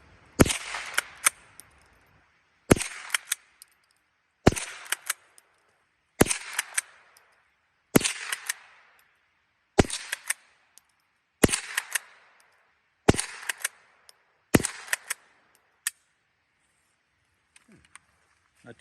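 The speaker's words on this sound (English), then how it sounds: "I'm going to shoot that little bullseye there." Remington 12A rifle, an 80-year-old gun, fired at a target on a range: eight sharp, loud single shots at a steady pace about two seconds apart, each followed by a short echo, with a few faint clicks of the action between shots.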